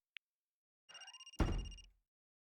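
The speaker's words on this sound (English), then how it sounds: "That's my phone." A phone in the video game Another Code rings briefly after a tiny click: a short ringing trill, then a louder electronic burst that fades out, heard alone and fairly close.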